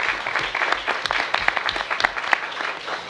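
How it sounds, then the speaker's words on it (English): An audience applauds at a statehood commission meeting on a draft constitution, a brief burst of steady clapping from many hands, moderately loud and even throughout. "give them a round of applause as well"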